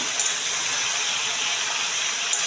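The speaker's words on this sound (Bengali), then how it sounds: "ভালো করে একটু নাড়াচাড়া করে নেব" Jujube (kul) pickle being stirred in a pan to dry off its water, heard as a steady broadband sizzling hiss that carries evenly throughout, with no distinct stirring strokes.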